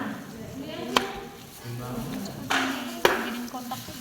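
Fruit being cut into cubes with a knife, a few sharp taps on a cutting board spread over a few seconds, fairly quiet under room noise.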